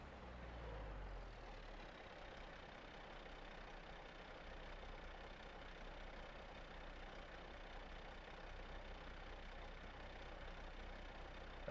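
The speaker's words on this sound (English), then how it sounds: "No wonder there was so much engine noises." Truck engines idle in the Motor Town: Behind the Wheel driving game, a faint, steady low rumble holding evenly throughout with no talk.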